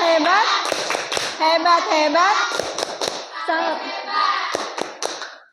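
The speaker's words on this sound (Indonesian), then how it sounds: "Kita kasih tepuk hebat buat Salis." A classroom of schoolchildren gives a rhythmic cheer clap, chanting in unison between the sharp bursts of hand claps, close and lively.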